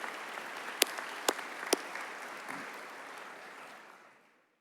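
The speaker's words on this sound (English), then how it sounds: "Let's give them all a round of applause." Audience applause at a high school commencement ceremony for district board members, a broad wash of clapping at moderate distance with a few sharper claps standing out, fading away toward the end.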